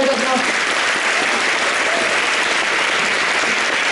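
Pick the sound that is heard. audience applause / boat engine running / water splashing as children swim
audience applause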